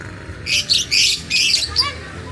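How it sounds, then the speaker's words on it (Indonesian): Lovebirds chirp and squawk in a rapid series of bright, loud bursts close by in a small hotel aviary, with short pauses between bursts. "Jadi agak sedikit memeriahkan suasana karena ada suara-suara burung"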